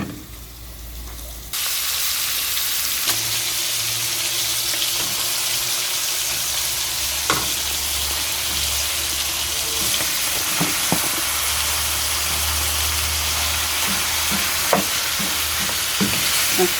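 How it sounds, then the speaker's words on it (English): Chicken back fries in a hot seasoned iron pot while being stirred, a loud continuous sizzle with scattered scraping and clinking of the spoon against the pot, close and steady throughout. "So I'm going to stir up the chicken back"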